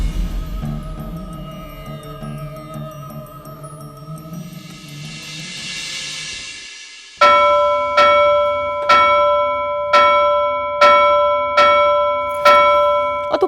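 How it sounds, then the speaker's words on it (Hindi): A bell rung repeatedly in a steady rhythm, about eight loud ringing strikes each decaying into the next, following a quieter stretch of background sound. "बंद कर घंटी बजाना।"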